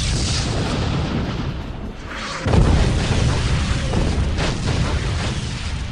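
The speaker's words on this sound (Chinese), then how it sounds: "超新星爆射炮射击！" A supernova blast cannon fires in an animated sci-fi space battle, a deep booming discharge that swells from a rushing roar into a loud, sustained rumbling blast.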